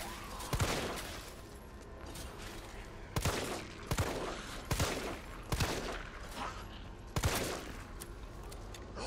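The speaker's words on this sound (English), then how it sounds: "You took four shots to the head." Gunfire in the Resident Evil 3 demo on Xbox One X: loud, sharp shots fire in bursts of single cracks and quick pairs across the stretch, over a steady, busy game soundscape.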